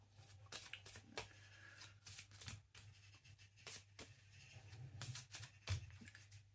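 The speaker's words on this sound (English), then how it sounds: "So if I shuffle them" Cards Against Humanity cards are shuffled in quick, soft riffling bursts and flicks, faint and close, with a low hum underneath.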